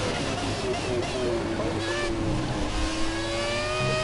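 A V8 race car engine in an F1 2017 video game revs continuously with a rising, whining tone, steady and fairly loud, while a voice murmurs faintly underneath.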